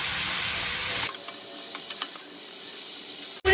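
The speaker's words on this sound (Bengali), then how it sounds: "তারপরে এটাকে ভালো করে মিক্স করে নেব।" Cabbage curry with fish head, potatoes and a little sugar stirred in a hot pan, a steady close sizzle with scattered scraping and clinking of the spoon, no talk, ending in a sharp clatter.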